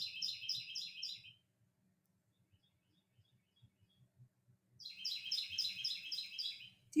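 Loud bird chirping in two bursts of rapid, repeated tweets at the start and end, separated by a quiet stretch with faint low rumble.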